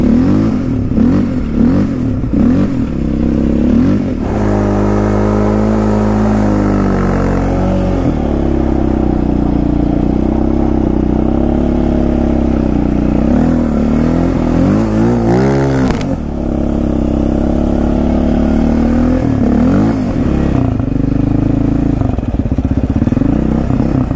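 Yamaha Raptor 700 quad engine riding in snow, loud and close, with repeated rising and falling revs, sustained throttle runs and a sharp burst midway, continuous throughout with no talking.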